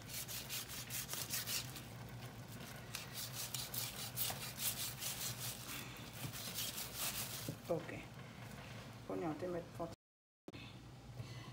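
A knife cuts through a goat's head with rapid, repeated scraping and sawing strokes, close and rough-textured, followed by a few sharper, separate scrapes. A voice can be heard faintly underneath.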